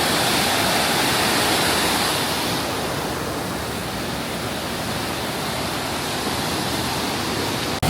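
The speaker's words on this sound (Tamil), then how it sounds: "தண்ணி எப்படி ஓடுது பாருங்க." Loud, continuous rushing of river water in Blyde River Canyon, South Africa, a dense roaring flow that pours steadily without pause, close to the listener and with no voices over it.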